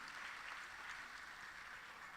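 An audience at a national cybersecurity challenge for senior high schools gives a steady round of applause, a dense, even wash of clapping heard at a distance and fairly faint.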